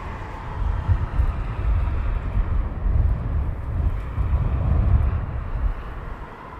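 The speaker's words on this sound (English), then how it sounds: "Next will be the Iberian, as you see it just taxiing past us." An Iberia airliner taxis past at Heathrow Airport, its engines a steady, deep rumble with wind buffeting the microphone and no voices.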